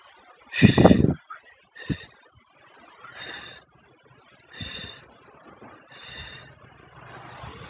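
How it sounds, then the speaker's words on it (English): Heavy, ragged breaths and gasps after a hard workout, a loud snort-like exhale followed by a series of rhythmic panting breaths, close and alone. "Control your breathing, control your breathing."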